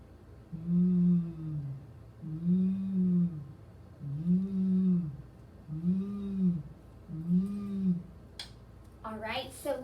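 A voice imitates a vacuum cleaner with a buzzing "v" sound, five drawn-out humming buzzes in a steady rhythm with short pauses between them, close and moderately loud, followed by a brief bit of speech at the end.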